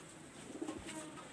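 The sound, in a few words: pigeons cooing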